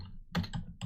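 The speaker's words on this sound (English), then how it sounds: "go to command prompt and type ping" A few quick keystrokes on a computer keyboard, three close, crisp taps in under a second as a ping command is entered at a Windows command prompt.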